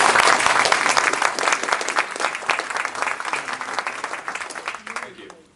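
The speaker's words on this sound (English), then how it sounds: "let's just give a round of applause to the" An audience at a panel session gives sustained, dense applause that stays loud for several seconds before tapering off toward the end.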